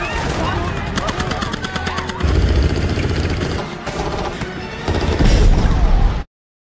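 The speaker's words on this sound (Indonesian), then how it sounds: "Sampai pada akhirnya baku tembak di antara mereka pun tidak terhindarkan." Sound-effect gunfire from a shootout, with rapid machine-gun bursts and heavy shots rattling in loud, dense waves before cutting off abruptly into silence.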